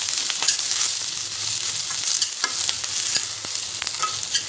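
Vegetables for soya chilli sauté in a pan, a steady close sizzle with intermittent spatula scrapes and taps against the metal, moderately loud and with no one speaking.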